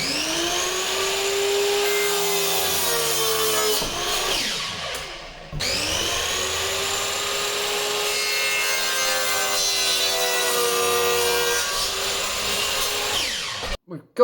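A power saw cuts timber base and roof plates to length for a bedroom wall, two loud sustained whining cuts with a brief pause between them, ending in a clatter.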